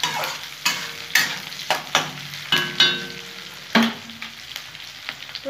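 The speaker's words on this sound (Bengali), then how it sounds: "পেঁয়াজগুলো আমার লাল লাল করে ভাজা হয়ে গেছে।" Onions fry in a pan with a low background sizzle, broken by repeated sharp scrapes and clinks of a spatula stirring them, fairly close and without talk.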